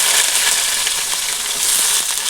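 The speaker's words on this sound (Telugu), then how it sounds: "ఇది వేసి కొంచెం మనం ఉల్లిపాయ కూడా పచ్చివాసన వేయదాకా వేసుకోవాలి." Onion and green chilli fry in a pan for biryani, making a loud, continuous hiss of sizzling oil close by, with no talking.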